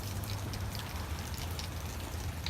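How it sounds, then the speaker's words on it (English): Steady rain patters on a silver 2014 Mazda 3 hatchback parked outside in Vancouver, a dense, even hiss of drops with no voices, continuous and fairly close throughout. "I live in Vancouver, so it is always raining, as it is right now"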